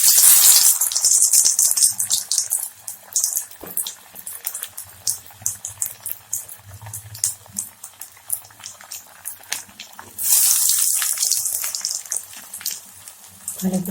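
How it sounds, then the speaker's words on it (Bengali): Coated fish pieces go into hot oil and set off bursts of loud, bubbling sizzle near the start and again near the end. Between the bursts comes softer crackling and spattering, with some talk now and then. "আগে থেকে আমি তেলটা গরম করে রেখেছি। দেখুন, এখন মাছটা ছেড়ে দেব।"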